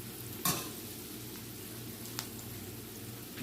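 Potatoes slide into a hot frying pan for breakfast home fries, bringing a sudden burst of sizzle followed by a steady, fairly quiet frying crackle with one more sharp spit partway through.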